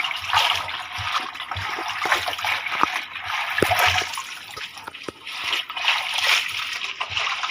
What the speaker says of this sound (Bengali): তো এখানে আমার আম্মু শাকগুলোকে ভালোভাবে ধুয়ে নিচ্ছে, দেখুন।